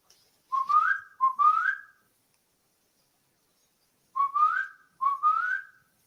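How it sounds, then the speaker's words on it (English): A person whistles to call a pet dog named Cookie: two pairs of short rising whistles, clear and close, with a pause of a few seconds between the pairs and no talking. "Usually when I whistle like that, she usually comes in after a minute or two."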